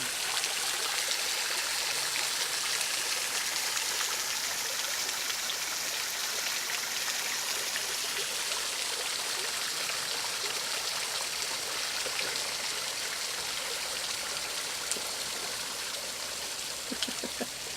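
Flowing water of a stream and small waterfalls along the Buffalo River, a steady broadband rush and trickle that stays constant and fairly close throughout, with no talking.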